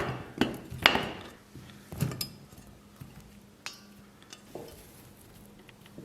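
Knife cutting pork into strips on a wooden board, with irregular close knocks and taps on the wood, some sharper than others, at a quiet level.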